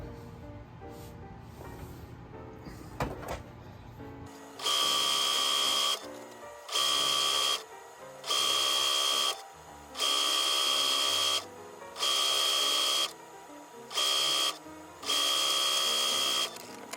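A sewing machine stitching quilt fabric strips at a quarter-inch seam runs in seven loud, close bursts of steady whirring, separated by short pauses, after a quieter stretch of handling noise.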